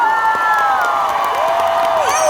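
A concert audience cheers and applauds, with loud, continuous crowd noise and whoops layered with sustained tonal squeals.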